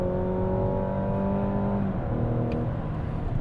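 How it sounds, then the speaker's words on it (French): A Mazda CX-80 accelerates at full throttle on a road test. The engine drone holds steady and strong, with a gear change partway through, heard from inside the car with no talk. "Là, je vais accélérer à fond pour tester en fait la motricité et surtout l'accélération."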